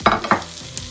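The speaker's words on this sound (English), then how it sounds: "And then you give that a stir." Mackerel curry stirred in a pan, two quick close scraping strokes of a utensil over a light sizzle, brief and distinct.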